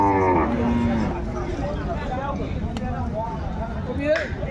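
A cow moos loudly and close by at a busy cattle market, one long drawn-out call at the start, with people talking around it and livestock noise in the background.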